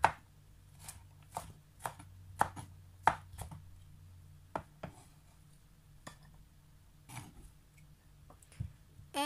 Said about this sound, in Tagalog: gagamit din po tayo dito ng ilang piraso ng bawang, and ganun din po i-chop po natin ito or you may cut it slice